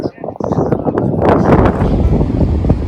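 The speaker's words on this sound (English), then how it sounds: "as you can hear, it is very windy out here" Strong wind buffets a microphone outdoors near ponds and a creek, a loud continuous low rumble with gusts swelling and dipping throughout.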